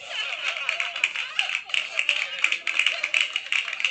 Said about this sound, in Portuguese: achei aqui o botão de palma